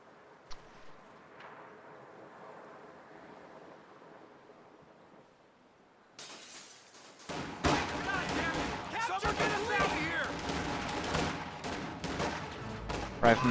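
Video game rifle fire as riflemen fight Volksgrenadiers holding a house: quiet ambience at first, then a dense burst of overlapping gunshots and explosions crackles loudly and continuously through the second half.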